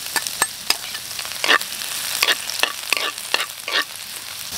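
Ginger and garlic sautéing in a hot pan for an Ilocano beef imbaliktad, with a steady sizzle broken by repeated sharp spatula scrapes and stirs, close and clear with no talking.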